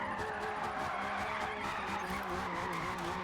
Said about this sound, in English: Drift that whole corner